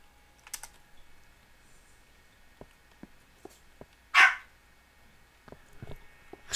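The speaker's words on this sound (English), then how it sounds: "Excuse the barking dog" A dog barks once, fairly loud, over a quiet background of scattered keyboard clicks and typing during Minecraft play.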